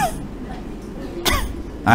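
A voice imitates a cough: a couple of short, rough throat bursts close to the listener, separated by a brief pause.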